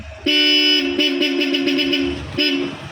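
A Bosch Europa horn fitted to a vehicle on the road blares loudly: one long blast, then a quick run of short toots and a final honk, close and clear.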